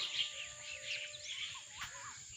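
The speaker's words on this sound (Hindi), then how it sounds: "और ऊपर चिड़िया, बहुत ज़्यादा चिड़िया, देखिए कैसी आवाज़ें आ रही हैं।" A flock of birds chirps overhead in a rural village yard where animals are tethered, faint, overlapping calls and whistles with a low insect-like buzz beneath.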